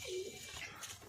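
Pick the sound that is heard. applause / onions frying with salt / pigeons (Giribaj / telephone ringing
pigeons (Giribaj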